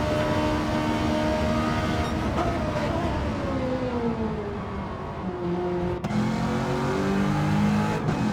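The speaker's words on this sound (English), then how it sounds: "Another car that absolutely screams. The Ferrari and the NSX, definitely two of the louder cars in this championship." Race car engines scream in a Gran Turismo 7 GT2 endurance race, loud and steady throughout, with pitch sweeping through gear changes as the cars pass.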